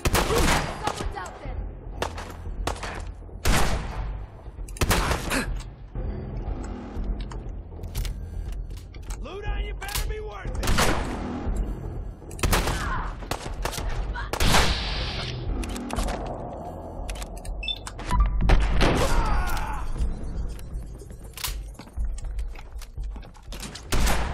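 Rapid bursts of gunfire from the video game Fallout 4, with repeated shots and volleys throughout, loud and close, mixed with game effects while a person talks over parts of it.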